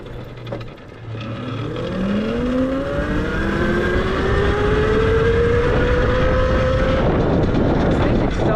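Tuttio Soleil 01 electric bike accelerating on a trail, a rising motor whine that climbs steadily in pitch over several seconds, heard close under wind rush.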